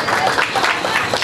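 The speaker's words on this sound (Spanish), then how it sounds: "Vamos a brindarle un fuerte aplauso a los jóvenes que hoy nos interpretan rock para chavitos." An audience claps for young performers at a children's rock show, a brief burst of steady, fairly close applause.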